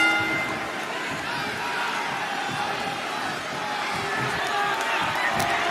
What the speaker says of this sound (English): when you can't hear yourself think because the crowd's so loud